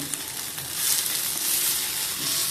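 Chicken legs roasting in very little oil on a hot tawa give off a steady, close sizzle and hiss that swells slightly partway through, with no voices.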